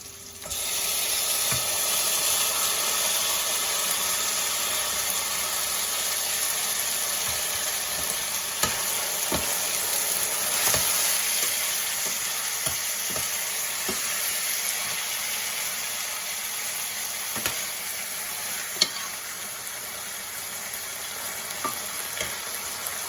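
Tomatoes fry with hot shishito peppers in a pan for Italian spaghetti with cherry tomatoes, a steady close sizzle broken by irregular sharp clicks and scrapes as they are stirred, with no voices.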